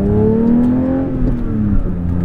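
A 2022 Porsche 911 GT3 engine revs high and loud, its steady rising harmonic wail held through the whole stretch with no voices over it.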